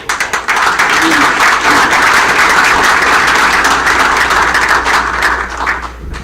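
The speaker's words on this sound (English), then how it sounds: "Let's give a round of applause." Sustained applause from an audience at a city commission meeting, a dense, steady clapping that fills the room for several seconds before tapering off at the end.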